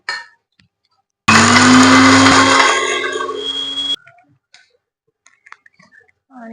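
A mixer grinder jar grinds dry ginger, cardamom and grated coconut with a little water in one loud, close burst of roaring motor lasting a few seconds, followed by faint clicks and handling noises.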